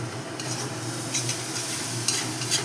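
Spice paste stirred and fried in oil for a potato, pointed gourd and egg curry, a steady close sizzle with soft scraping strokes of a spoon against the pan throughout.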